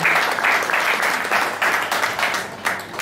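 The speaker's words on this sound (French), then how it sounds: "On peut l'applaudir." Crowd in Saint-André-les-Alpes applauding at a welcome for TransVerdon mountain bikers, dense steady clapping with slight pulses, fairly close and loud, no speech over it.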